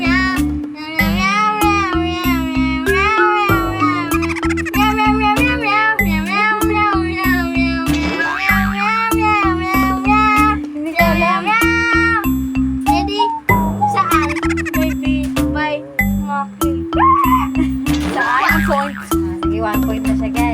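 Several voices sing a rhythmic melody made entirely of cat-like meows, imitating a cat in a bouncy repeated pattern with quick syllables over a steady beat.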